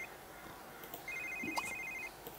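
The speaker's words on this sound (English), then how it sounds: "Answer your fucking cell phone." A cell phone ringtone chirps in The Sims 3, a faint, thin electronic trill lasting about a second against quiet game background, with no talking.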